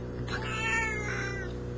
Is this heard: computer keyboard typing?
no